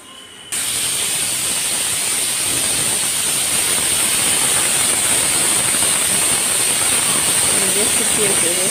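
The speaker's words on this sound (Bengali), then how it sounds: "এখন আমার তিনটা সিটি বেজে গেছে" A pressure cooker whistle blows a loud, steady hiss of escaping steam, sustained and close, while desi (country) chicken cooks inside; the venting continues unbroken throughout.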